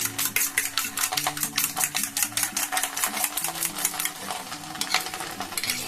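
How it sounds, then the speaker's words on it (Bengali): Eggs and salt whisked with a fork in a bowl, a quick steady run of close clicking taps, about four per second, with faint tonal sound underneath. "দেখুন এইভাবে একটা কাঁটা চামচ দিয়ে ফেটিয়ে নেব"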